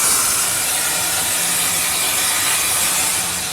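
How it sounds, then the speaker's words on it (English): Steam pours out everywhere from a wagon as trapped water is boiled by heat from a boiler, a loud continuous roaring hiss that stays steady without pause and has no voices over it. "all of the steam coming out everywhere"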